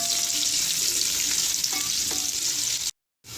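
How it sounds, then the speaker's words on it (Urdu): Chopped onions fry in hot cooking oil, giving a steady close hiss and sizzle with faint stirring clinks. The sound stops abruptly near the end. "اب ہم اس کے اندر پیاز ایڈ کر دیں گے، اور پیاز ایڈ کرنے کے بعد اسے فرائی کر لیں گے۔"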